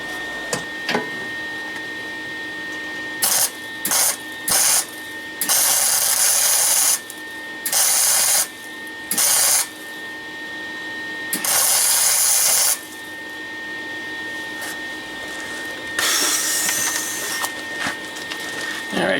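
Welding an air shock mount on a VW Beetle produces about eight separate crackling, buzzing bursts of one to two seconds each, close and loud, with a faint steady hum between them.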